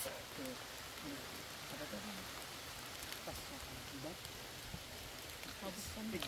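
Steady rain hisses over the slopes of Gunung Ciremai on the Trisakti Sadarehe hiking route, a dense, even wash of drops that stays fairly constant with slight swells toward the end.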